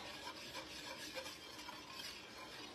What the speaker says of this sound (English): So, I'm going to switch to a whisk.